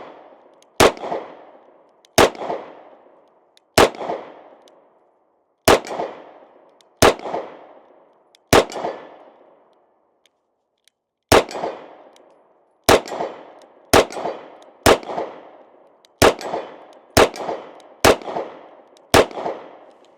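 A Smith and Wesson CSX E Series pistol fired at a long-distance target, with about fourteen loud, sharp shots, each followed by a short echoing tail. They are spaced irregularly at roughly one-to-two-second intervals, with one longer pause midway.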